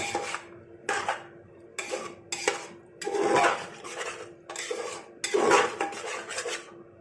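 A utensil scrapes and knocks against a pot while yogurt is stirred into chicken pilaf. The strokes come in repeated rhythmic bursts, close and clear, with no talking.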